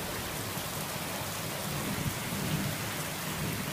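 Heavy monsoon-like rain mixed with small hail pounds down in a dense, constant roar close by, with no voices.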